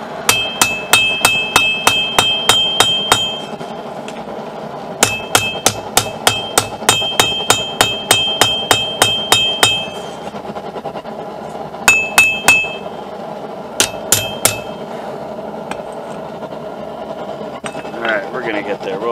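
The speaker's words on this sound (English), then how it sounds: "just going to light taps up and down as straight as I can all the way down the blade" Rapid, evenly spaced light hammer taps ring out on a steel knife blade in several runs of bright metallic clinks, with pauses between bursts.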